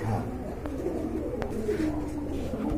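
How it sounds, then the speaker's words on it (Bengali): A pair of black-faced pigeons coo in soft, low, rounded calls close by, the cooing running steadily through the moment with no talk. "এখানে রয়েছে বন্ধুরা এক জোড়া ব্ল্যাক মুখী কবুতর"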